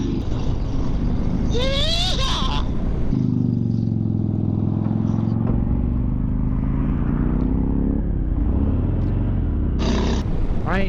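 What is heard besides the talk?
2019 Harley-Davidson Fat Bob motorcycle riding and accelerating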